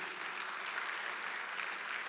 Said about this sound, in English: All that deserves a round of applause